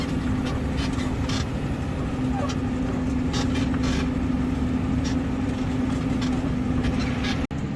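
A tractor engine's steady low rumble drones throughout, with a faint rattle and higher noise bursts on top, fairly loud and continuous, while driving across hilly farmland in Southland.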